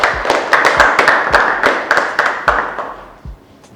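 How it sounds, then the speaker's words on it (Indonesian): Audience in an office or business meeting claps hands in a short burst of applause, dense sharp claps that fade out over a few seconds, fairly close and loud. "Kita beri tepuk tangan untuk kita semua."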